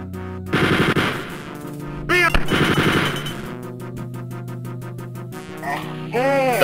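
Rapid automatic gunfire from the Wolfenstein 3D Spear of Destiny video game, loud bursts with game music and sound effects, pausing midway before chirpy game effects return near the end.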